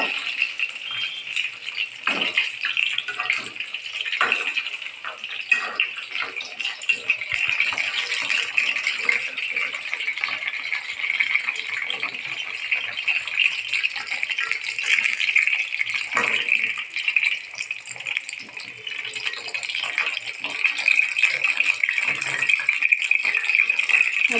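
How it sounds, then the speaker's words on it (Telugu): Brinjal (eggplant) pieces fry in hot oil in a pan with a continuous, close crackling sizzle that stays fairly even throughout. "ఇవి కొంచెం మెత్తబడాలి, వేగాలి ఆయిల్లో"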